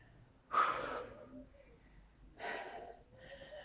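Deep breaths drawn during a home warm-up exercise: two loud, breathy inhalation bursts separated by a quiet pause, close to the microphone, with no talk.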